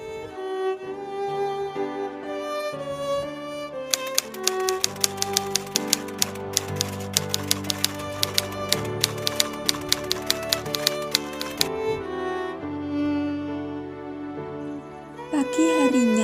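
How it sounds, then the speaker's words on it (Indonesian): A typewriter taps out the Indonesian proclamation text, typed by Sayuti Melik in 1945, with a rapid, evenly paced run of sharp keystroke clacks over steady background music, framed by quieter stretches before and after. "Teks proklamasi Indonesia diketik oleh Sayuti Melik."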